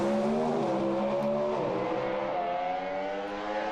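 Pro Stock drag racing cars roar side by side down the strip on a hot day, a loud sustained engine howl with pitch climbing through gear changes, heard without talk.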